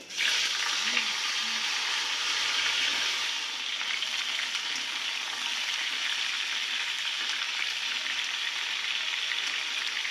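Potatoes and cauliflower fry in hot oil seasoned with asafoetida, giving a steady, close sizzle that holds evenly throughout with no talking.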